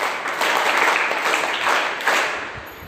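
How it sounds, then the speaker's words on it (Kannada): Loud, sustained clapping from a group of children and adults at a values talk on the Mahabharata, a thick continuous patter of many hands that swells and then tapers slightly toward the end. "ಜೋರಾಗಿ ಚಪ್ಪಾಳೆ ಬರ್ಲಿಕ್ಕೆ"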